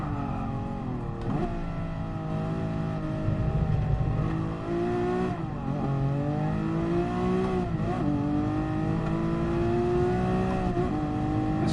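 A GT3 race car engine running flat out in the video game GT Sport, a loud sustained high-revving howl that rises in pitch through the gears, with brief dips at shifts, continuous and close.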